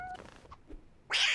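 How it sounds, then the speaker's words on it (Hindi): A cartoon cat meowing in a children's animated show, a short high cry near the start among soft background sounds, then a brighter burst at the end. "मगर ये तो बिल्ली है।"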